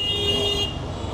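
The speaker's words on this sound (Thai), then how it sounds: "มาแล้วเสียงแตรมาแล้วทุกคน" A vehicle horn honking on a street in Bangladesh, a single sustained bright toot close by that cuts off after about two-thirds of a second, leaving a low hum of traffic.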